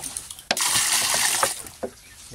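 Water poured for backyard-farm pigs, a sudden splashing rush that starts abruptly and runs steadily for about a second and a half, then tapers off into a few scattered drips and splashes, close and fairly loud.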